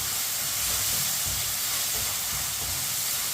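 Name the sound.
tomatoes cooking in a pan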